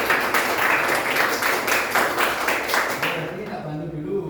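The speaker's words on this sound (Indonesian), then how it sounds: "Silakan kita berikan tepuk tangan." Classroom clapping by sixth-grade students at an elementary school in Indonesia, a rhythmic group clap in unison with regular beats that stops abruptly near the end, a voice following faintly.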